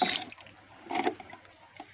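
Water being poured to dilute liquid fertilizer in a backyard garden, a few soft splashing gushes and trickles at a quiet level, close by, with no talking.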